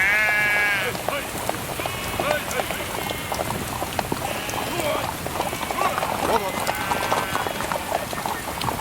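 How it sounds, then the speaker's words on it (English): Several sheep bleat loudly and repeatedly nearby, their wavering cries overlapping against steady rain pattering on surfaces. "move your sheep"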